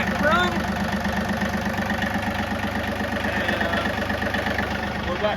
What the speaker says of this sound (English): Dylan got the tractor running